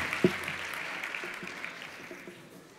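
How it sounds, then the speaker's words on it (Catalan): Audience at a Vic sports awards gala applauds in a steady, moderately loud wash of clapping that gradually fades, with a few isolated claps and faint voices underneath. "Un aplaudiment"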